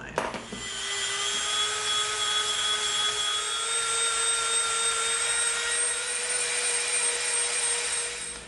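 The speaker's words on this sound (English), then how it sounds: "So now we're gonna Dremel from this line to that line." Dremel rotary tool grinding a bevel along a marked line, a steady high-pitched whine with a grinding edge that starts abruptly and holds loud and close for several seconds before easing off.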